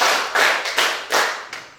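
A class plays a counting game led by a teacher, and a group claps together in short bursts. About five loose, roomy claps come at uneven intervals, each a brief wash of many hands, moderately loud with no voices.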